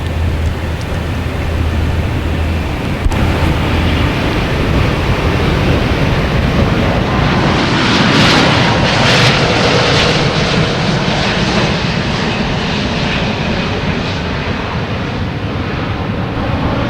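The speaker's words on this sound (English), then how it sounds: "We actually have a Delta, an A330-900 coming in from Amsterdam, coming right over my left shoulder here in 1 second." A Delta Airbus A330-900 arriving from Amsterdam passes close overhead on landing at Boston Logan Airport, a loud, continuous jet roar that swells and fades with wind buffeting the microphone.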